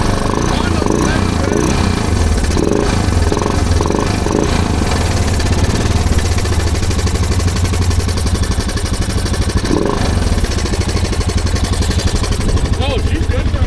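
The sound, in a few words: Honda off-road motorcycle engine running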